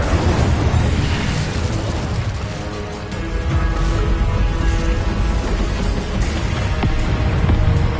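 Confringo explosive spell going off in Hogwarts Legacy, loud rumbling blasts and bursts layered over a continuous booming roar that dips briefly midway, then swells again.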